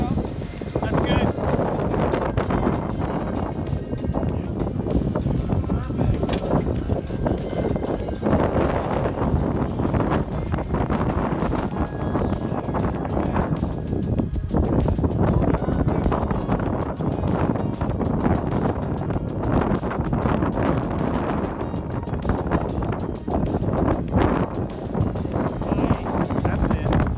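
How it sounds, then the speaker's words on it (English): Strong wind at Sand Hollow buffets the microphone in a constant loud roar for nearly half a minute, with people talking faintly underneath. "Oh, look at that wind."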